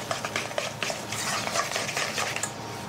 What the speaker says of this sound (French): Et on va mélanger le tout.